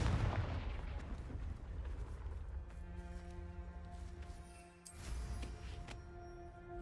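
A Confringo fire spell in Hogwarts Legacy bursts with a heavy boom that rolls into a sustained rumbling blast, then a second softer thump as it tails off under low game ambience.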